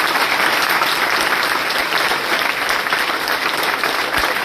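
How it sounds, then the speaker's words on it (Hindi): An audience applauds a guru at a coaching centre event, a dense, steady roar of many hands clapping that fills the whole stretch without pause. "तो गुरुजी के लिए एक बार जोरदार तालियां हो जाए"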